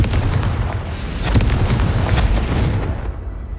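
A loud, rumbling Confringo spell blast from a PlayStation wizarding video game, a sustained explosive roar with crackling bursts that swells and then fades away near the end.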